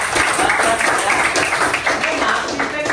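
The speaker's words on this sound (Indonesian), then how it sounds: "Oke, tepuk tangan untuk Adi." Applause from a training-session audience for a presenter, steady dense clapping filling the room for about three seconds, with chatter and voices mixed in beneath it.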